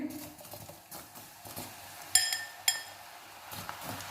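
Coated chickpeas (chana) being added to hot oil for crispy chilli chana, a soft sizzle broken by a few sharp metallic clinks and scrapes from a utensil against the pan.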